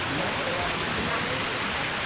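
Water pours steadily into a pond, a dense unbroken rushing hiss close by, with no pauses across the short stretch.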